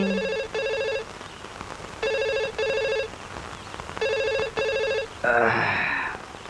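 A telephone rings in repeated electronic double bursts with short gaps, loud and close, over a faint rain-like hiss, ending with a brief sweeping tone.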